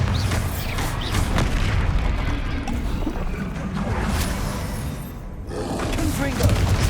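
Spell explosions from Hogwarts Legacy, a booming Bombarda blast mixed with other combat spells, dense and continuous with thuds and whooshes, loud and close, with a voice calling out spell names over the action.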